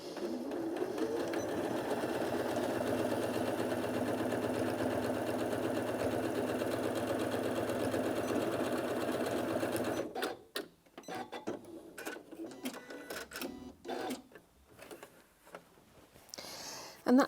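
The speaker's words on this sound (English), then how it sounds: "So drop the press foot down." Janome Atelier 9 sewing and embroidery machine stitching steadily through two layers of fabric, a loud continuous mechanical whir for about ten seconds, then stopping and giving way to quieter intermittent handling noises.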